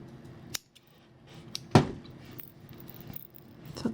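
Scissors snip the end of crochet yarn while a Christmas elf is finished off: a few sharp, isolated cuts close by, separated by quiet handling sounds.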